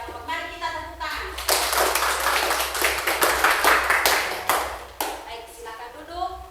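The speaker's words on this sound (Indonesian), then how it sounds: "Mari kita tepuk tangan." Students in a classroom give a round of clapping applause for the first group's presentation, several seconds of dense, fairly close hand claps, with a voice heard before and after.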